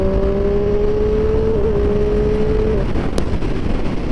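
A Triumph motorcycle engine, Street 765RS or MT-09, revs hard and steady while overtaking, a loud sustained drone with a rising whine that holds, then eases off near the end, mixed with road and wind rush.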